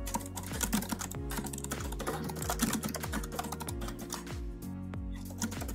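Rapid typing on a computer keyboard while a pull request summary is written, a dense, close run of light key clicks with brief pauses, steady throughout with a low background tone underneath and no talk.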